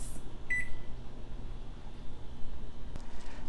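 Oven control panel giving a single short electronic beep near the start of setting the temperature, followed by a faint click over low room hum.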